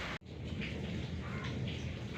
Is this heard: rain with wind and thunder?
yes